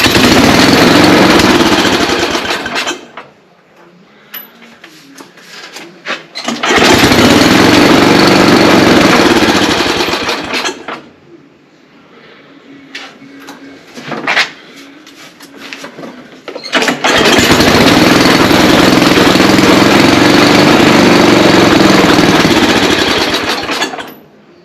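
An 8 hp snow blower engine with a hard-starting fault runs loudly in three long bursts, each cutting out into quieter gaps with faint clanks and rattles between them.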